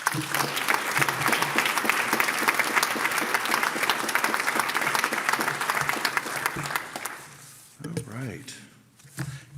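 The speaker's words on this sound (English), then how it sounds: "Please give a round of applause for our sponsors" Dense, steady applause from a conference audience at an awards and business meeting honoring sponsors, loud for several seconds before fading out, with a voice speaking as it dies away.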